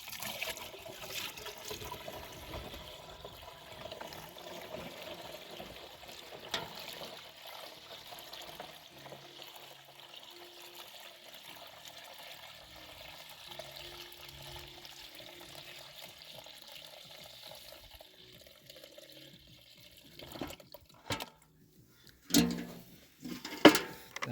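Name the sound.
water being poured out of a bucket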